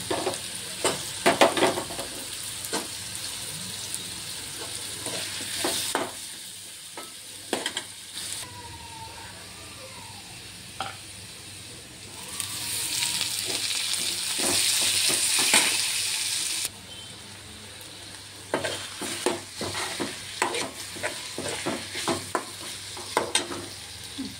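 Potato and onion sizzle and fry in a pan while being stirred, with repeated scraping and clattering strokes over a steady close sizzle that swells louder partway through.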